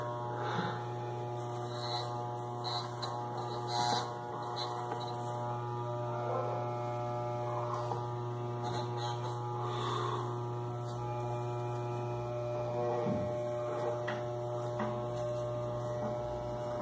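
An electric hair clipper trims a beard, giving a steady droning motor hum throughout with soft scraping bursts as the blades pass through hair.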